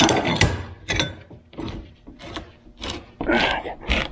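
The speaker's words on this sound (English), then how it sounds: "Now I can put a wrench on that, snug that up right here," A wrench snugging a bolt fitted with a lock washer into plastic: a close run of short clicking, ratcheting bursts in uneven rhythm, with faint handling knocks between strokes.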